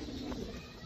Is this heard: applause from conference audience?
no